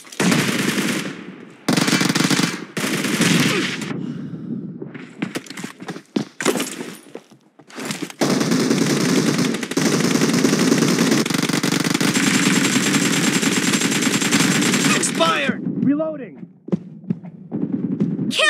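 Automatic gunfire in the video game PUBG during a team deathmatch, with loud sustained bursts and short separate volleys cut by brief pauses and thuds, close and dominant.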